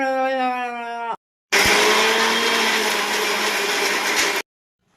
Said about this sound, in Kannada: ಇವಾಗ ಇದು ರುಬ್ಕೊಳ್ಳೋಣ ರುಬ್ಕೊಳ್ಳೋಣ